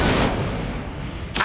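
Incendio fire spell cast in the Hogwarts Legacy video game: a loud, sustained fiery whoosh and rumble, with a second sharp burst near the end.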